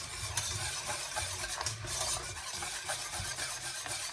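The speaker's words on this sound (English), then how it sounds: "I'm using a whisk to keep it nice and smooth" Creme patissiere custard whisked in a pan, heard as a continuous fast, close scraping and swishing of the whisk against the metal, even and steady, with no talking over it.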